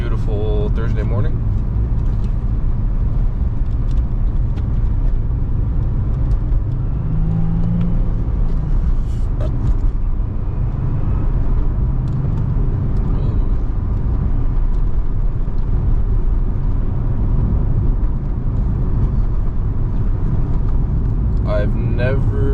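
A Nissan 350Z Nismo sports car drives on wet roads on a morning run, with a continuous low engine drone and road noise inside the car. A brief rise in engine tone appears partway through.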